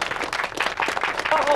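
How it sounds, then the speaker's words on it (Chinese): An assembled crowd of workers claps for a youth commando team at a canal construction site, a short burst of brisk, irregular applause fairly close, with a faint tone near the end. "我们把掌声送给他们"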